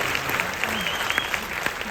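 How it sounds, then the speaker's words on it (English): A studio audience claps and cheers in a steady, dense wash of applause at a talk-show Q&A with Conan O'Brien, sustained throughout without a break. "Hold the applause."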